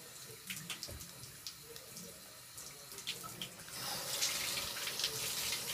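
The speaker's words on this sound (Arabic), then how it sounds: "لا يلا بدك تغسل ايدك" Tap water runs from a faucet into a sink during handwashing, a faint room murmur at first, then a steady, close hiss of flowing water that swells in the second half.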